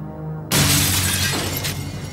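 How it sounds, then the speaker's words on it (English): Sudden loud crash of glass breaking after a quiet moment, a bright burst of shattering followed by a sustained spray of tinkling shards. "There would be the sound of breaking glass."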